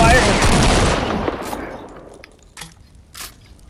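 Fortnite gunfire: a loud, rapid burst of automatic shots opens the moment and trails off over a couple of seconds, followed by a few fainter isolated pops.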